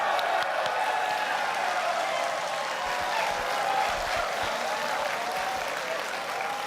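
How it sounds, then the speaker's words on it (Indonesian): Steady, dense applause from a large audience at an Indonesian presidential debate, sustained and even throughout with a faint murmur of voices underneath. "Tepuk tangan."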